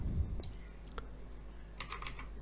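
Typing on a computer keyboard in a quiet room, a few sparse key clicks followed by a short quick cluster of taps near the end, close and soft.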